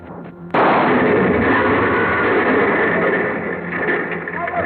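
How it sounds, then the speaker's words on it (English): A sudden, loud blast of a car exploding in a radio drama sound effect erupts, then gives way to a sustained, roaring rumble that slowly fades a little. "The car went up in a blast of powder and gasoline"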